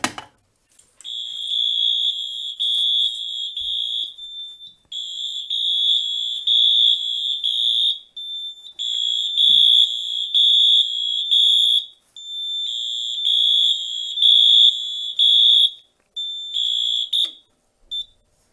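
A Simplex 4010 fire alarm system sounds after a pull station is pulled, giving a loud, shrill electronic tone in repeated bursts of roughly three seconds with short gaps between them. No voices are heard.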